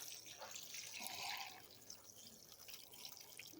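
Rainwater poured over freshly sown zinnia seedlings, a steady close splashing and trickling with faint dripping throughout, no voices.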